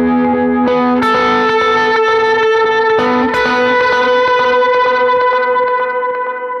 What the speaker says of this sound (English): the delay is getting crunched up just that tiny little bit